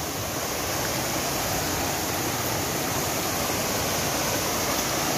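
Clean stream, a tributary of the Rio Grande used for crop irrigation, rushes steadily in a dense, unbroken wash of water noise, loud and close, with no voices.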